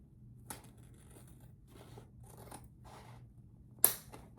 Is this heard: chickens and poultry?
no